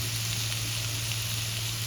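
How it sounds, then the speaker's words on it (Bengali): Fried jackfruit and potato sauté in a spice paste in a pan for a wedding-style jackfruit and prawn curry, giving a steady, close, even sizzle with no pauses and no voices. "এবার আমি ভেজে রাখা এঁচোড় আলুটা দিয়ে মশলার সঙ্গে একসঙ্গে খুব ভালো করে"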